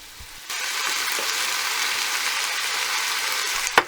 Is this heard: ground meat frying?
yes